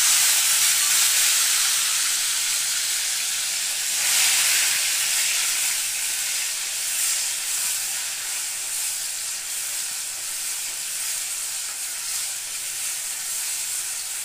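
Spices hit hot oil in a pan and sizzle with a continuous, loud, hissing crackle that swells slightly early on and then holds steady for the whole stretch.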